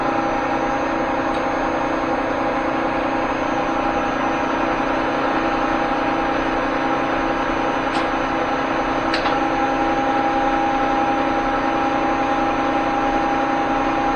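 Feed motor of a Cincinnati milling machine running steadily at a high feed rate, a constant mid-pitched mechanical hum with a faint whine and a couple of brief clicks, close and continuous with no talk.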